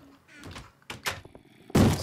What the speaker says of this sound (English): They're breaking down a door.